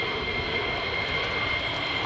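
F-15 C and D fighter jets at a farewell ceremony, their engines producing a loud, continuous roar with a steady whine layered over it, held without a break.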